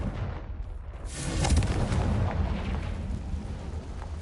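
A fiery blasting-spell explosion in the video game Hogwarts Legacy, heard as a loud, rumbling boom that swells after the first second and then rolls on as a dense, sustained roar until the end.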